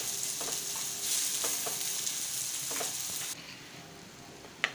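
Masala with chopped onions fries in a pan with a steady sizzle as it is stirred, giving a few soft scraping strokes. The frying quiets partway through, and a sharp tap comes near the end.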